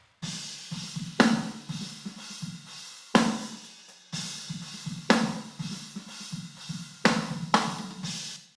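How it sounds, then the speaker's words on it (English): Drum kit heard through a room mic with added reverb, playing a prog groove: sharp snare and cymbal hits about every second over a steady busy kick and tom pattern, roomy and spacious, with no talking. "we're adding a tiny bit of reverb as well to the room"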